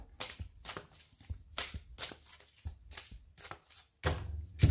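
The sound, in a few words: shuffling oracle cards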